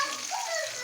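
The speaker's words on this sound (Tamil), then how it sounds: "ஒரு மீனை போட்டு கும்பலா மீனை பொரிச்சு இதை போட்டு நல்லா பொரிய விடணும்" Fish (mackerel) frying in hot oil in a pan gives a steady, close sizzle with a soft bubbling crackle, unbroken for under a second with no voices.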